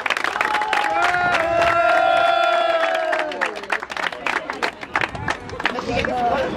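Crowd at a ski slalom race clapping and cheering, a dense burst of applause that thins into scattered claps, with a loudspeaker voice and nearby chatter over it.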